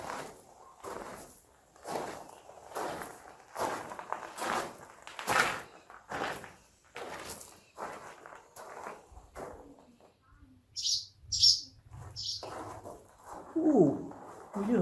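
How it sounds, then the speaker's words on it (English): A bird chirps inside a stone room, a few short, fairly clear calls ringing out near the end after a stretch of footsteps and movement, with a brief low coo-like sound following. "we do have a bird in here."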